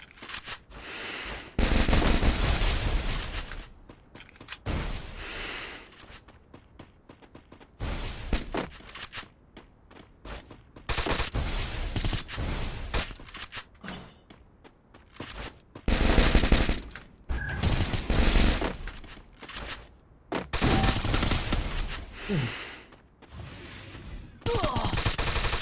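Rapid bursts of automatic gunfire in the Free Fire battle royale video game, sharp loud volleys and single shots coming in irregular clusters separated by short quieter pauses.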